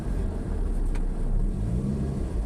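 Steady road traffic on C5 in Quezon City heard from inside a moving car, with a constant low engine and tyre rumble, continuous and close, no speech.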